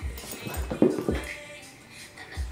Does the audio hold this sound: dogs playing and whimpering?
yes